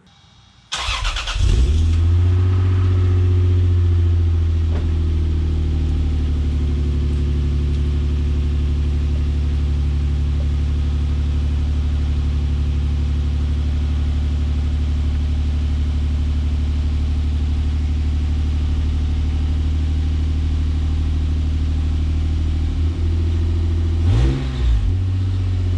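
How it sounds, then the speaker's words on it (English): A Lexus GS300 with a custom exhaust cranks and fires up with a sharp burst, then settles into a loud, deep, steady idle rumble that runs on before a brief rev near the end. "Let's do a startup, first startup."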